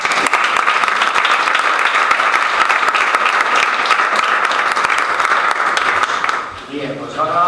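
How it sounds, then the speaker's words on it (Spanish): Workshop attendees applaud in a loud, dense, sustained round of clapping during a session on debunking myths. The clapping fades near the end as a voice begins speaking. "Pues vamos a terminar con eso y con un aplauso."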